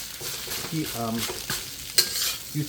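Thai fried rice stir-fried in a pan on a portable butane stove, a steady sizzle with a spatula scraping and breaking up the rice in repeated strokes, close and fairly loud, with a brief voice in the middle.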